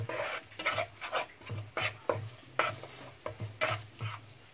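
A spatula stirs egg with chopped green chili in a hot pan, scraping in a steady rhythm of repeated strokes over a light sizzle, close and alone.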